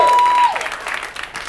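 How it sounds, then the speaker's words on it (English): Studio audience applause at a comedy show, a brief burst of clapping that fades quickly behind a speaking voice. "a nice round of applause for these great people"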